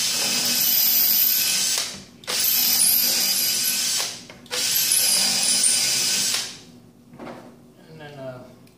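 A power drill whirs in three long, loud bursts with brief pauses between, driving a screw into wood; a voice speaks briefly afterward.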